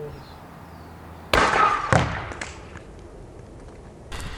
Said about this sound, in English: 3-shot shotgun blast from 10 meters.